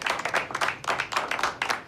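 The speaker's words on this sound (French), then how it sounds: "Je crois qu'on peut l'applaudir." Audience applause rising after a film scene's announcement, a dense burst of many hands clapping in quick uneven rhythm, moderately loud and steady throughout with no talk over it.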